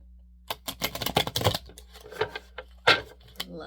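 Rapid papery flicks and soft clacks of tarot cards being shuffled up close, in quick irregular bursts with brief pauses.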